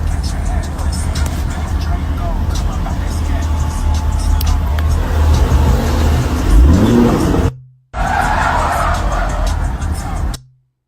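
Someone's Maybach revving hard and skidding, a loud continuous engine roar with a rising tire squeal, then a brief cut before the roar resumes; voices and background sound run underneath.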